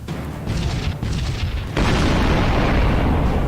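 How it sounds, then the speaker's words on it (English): A Pulse weapon firing in the space strategy game Sunrider, a loud booming energy blast that swells, briefly dips, then erupts into a sustained roaring burst of noise. "Pulse is probably my favorite weapon in this game."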